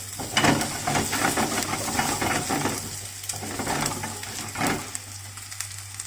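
Garlic and chili sautéing in a pan over high heat for Thai pad kra pow moo, with steady close sizzling and hiss plus a few scraping stir strokes throughout.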